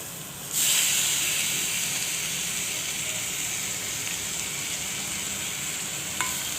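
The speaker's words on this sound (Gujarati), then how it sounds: "એને આપણે સરસથી મિક્સ કરી લેવું" Grated potato stirred and frying in a pan of hot oil, a steady broad sizzle that flares loudly at the start and holds even, with faint scraping of the spoon throughout.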